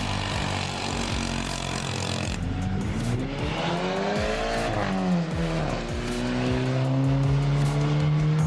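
A budget supercar built as a quarter-mile drag car launches on a qualifying pass: a loud engine rev, then rapid upshifts with rising and dropping pitch and a tire squeal, the engine roaring steadily throughout.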